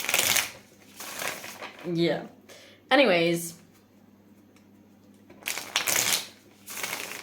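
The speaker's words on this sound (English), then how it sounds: "I just want to keep shuffling. I'm just going to keep shuffling until it feels good." Tarot cards shuffled by hand in bursts of soft papery riffling and slapping, with someone talking briefly between the shuffles.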